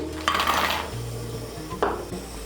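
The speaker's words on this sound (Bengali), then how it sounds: "এখন এর মধ্যে আমি দিয়ে দিচ্ছি সোয়াবিন" Soybean chunks dropped into a metal pot of water, two short clattering splashes about a second and a half apart against a steady background hum.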